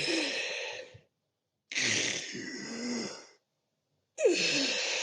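A voice imitates ragged, heavy breathing, like a horse after a long run, heard from far off in a house at night; three long, hoarse breaths with short silent gaps between them, close and loud.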